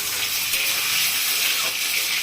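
Hot water pours steadily into a pan of potato, cauliflower and prawn curry, a continuous bright hissing splash, close and alone throughout.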